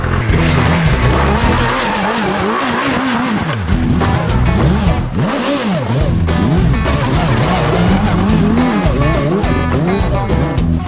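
Suzuki Hayabusa motorcycle engine revving hard off-road, loud and close, with rising and falling pitch sweeps as the throttle is worked, and tire skidding and spinning throughout.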